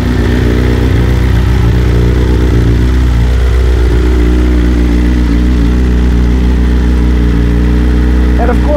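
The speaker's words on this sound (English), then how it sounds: "Starts up great, guys. This is a cold start." A BMW S 1000 RR superbike idles after a cold start, a loud, close, steady engine drone whose pitch wavers slightly early on. A person talks over it partway through.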